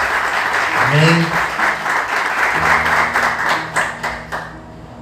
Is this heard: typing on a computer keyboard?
no